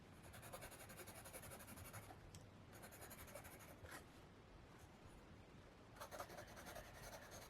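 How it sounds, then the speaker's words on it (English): A soft 6B graphite pencil scratches across paper in close, quiet strokes, with short pauses between bursts of writing and a faint knock at the very end. "So then we have the 6B pencil."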